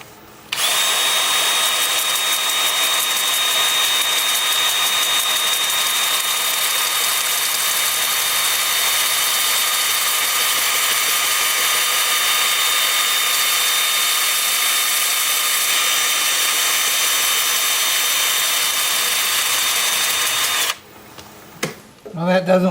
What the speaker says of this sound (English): I'm starting at 80 grit with my 2-inch disc.